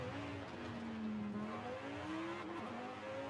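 A high-revving sports car engine in Forza Horizon 5 whines steadily, pitch sliding up and down as it shifts and accelerates, fairly quiet overall.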